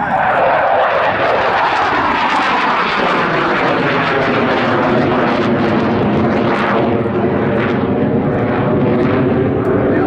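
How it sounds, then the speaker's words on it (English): A loud aircraft engine roars overhead as the plane flies past, its pitch shifting as it passes, close and dominant. "Oh, that really is a fabulous aircraft."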